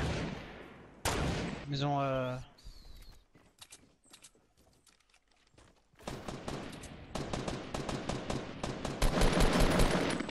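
Players in a Fortnite match fire guns in rapid bursts, with stretches of loud automatic fire at the start and again toward the end, broken by quieter moments and by excited players talking over the shooting.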